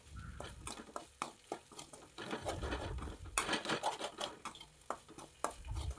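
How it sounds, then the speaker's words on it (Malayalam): Okra stir-fry for Kerala-style vendakka mezhukkupuratti is stirred in a pan with a spatula, giving close, irregular scraping, patter and sizzle with occasional light clinks and no talking. "നന്നായിട്ട് ഫ്രൈ ആകണത് വരെ ഇളക്കുക."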